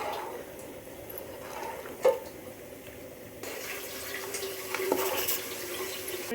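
Water runs steadily from a tap into a pot while Natti chicken sambar is being cooked, a continuous close splashing that grows brighter and fuller midway, with a brief clink of the vessel.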